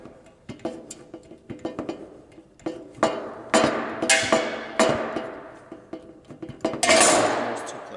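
A knockout punch is tightened to cut a 1 1/4 inch hole in a metal junction box, producing a close run of irregular metallic clicks and ratcheting taps that build to sharper crunching snaps.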